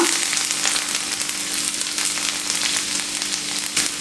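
Chopped garlic sizzles and fries in a couple of teaspoons of hot oil for a dosa, a steady bright crackle running throughout with no voices.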